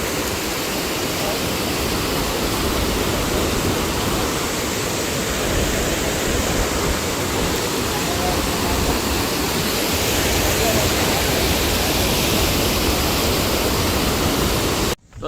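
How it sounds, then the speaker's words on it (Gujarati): River water pours over a dam on the Malan river in overflow, a loud, unbroken roar of rushing water that holds steady throughout and cuts off abruptly at the end. "કેટલું પાણી જાય છે અહીં."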